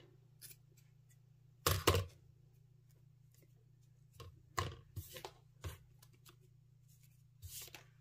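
Scissors snip at a Valentine's gnome craft in a few short, quiet, separate cuts over a faint steady hum, with no talking.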